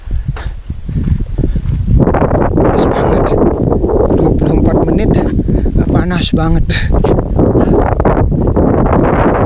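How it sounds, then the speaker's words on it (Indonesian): Strong gusting wind on an open hilltop along a hiking trail, roaring steadily and buffeting the microphone close up, with someone talking throughout. "dan angin besar"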